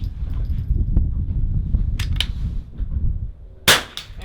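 Rifle shots at an NRL22 rimfire match, with a sharp, loud report near the end cutting over low outdoor rumble and faint earlier taps.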